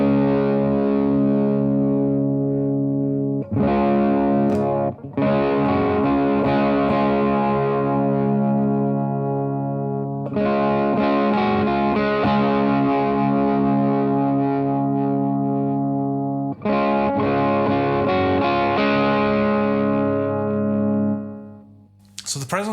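An electric guitar through a Mad Professor Mighty Red Distortion pedal plays long, loud, sustained distorted chords in several held blocks, with short pauses between them and a final fade.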